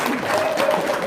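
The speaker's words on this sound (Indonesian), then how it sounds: "Tepuk tangan." A seated crowd claps steadily through a short burst of applause at a school talk, with a faint tonal hum and murmuring voices beneath.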